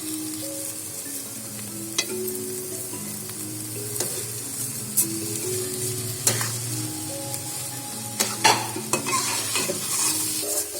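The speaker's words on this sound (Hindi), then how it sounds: "चमचे को आप मुसलसल हिलाते रहें और ताकि इसमें चीनी अच्छे से मिक्स हो जाए" Pumpkin halwa with sugar stirred in a pan with a spoon, a close steady sizzle broken by repeated sharp scrapes and knocks of the spoon against the pan, no voices.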